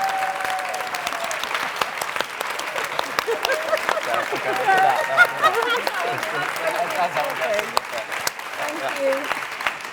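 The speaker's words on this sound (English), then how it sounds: "we should give them the round of applause that actually this TV programme deserves" A festival audience gives a round of applause for a TV programme at an Edinburgh TV Festival masterclass, with steady dense clapping throughout and a brief voice at the end.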